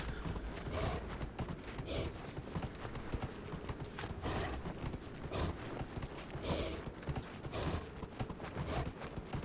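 A mount's hooves clip-clop in a steady, rhythmic gait while riding in the video game Dragon Age: Inquisition, fairly faint beneath a noisy game soundscape.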